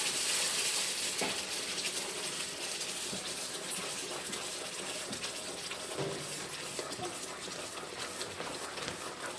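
Besan cooking in a pan being stirred: a steady soft sizzle with faint scraping strokes of the spoon, close and quiet throughout.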